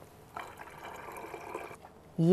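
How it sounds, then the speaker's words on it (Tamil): Strained jaggery and mint juice being poured, a soft, steady liquid stream lasting over a second, followed by a voice starting to speak. "அரைச்சி வடிகட்டியாச்சு இதை ஊத்துறேன் பாருங்க"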